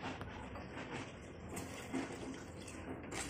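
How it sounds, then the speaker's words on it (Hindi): Water poured into a pan of Indian palak matar (spinach and pea) curry, a steady faint splashing and sizzling wash that runs continuously through the short stretch with no voices. "हमने पानी ऐड कर दिया है और इसको अभी हम पकने देंगे।"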